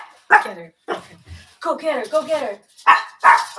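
A dog barks and yips in short bursts close by, mixed in with a person speaking and urging it on.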